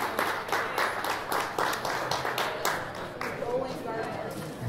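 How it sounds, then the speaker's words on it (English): Crowd at a fishing tournament weigh-in applauding the winner, a burst of rhythmic clapping with cheering voices, moderately distant and fading slightly toward the end. "And give them a round of applause."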